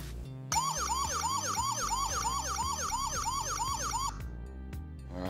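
A loud smart home electronic siren wails in a rapid, repeating up-and-down sweep for about four seconds, then cuts off abruptly, leaving a faint hum.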